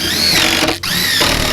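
A power drill drives screws into the wooden top of a homemade gym bench, one loud close whine that dips briefly in the middle before spinning up again.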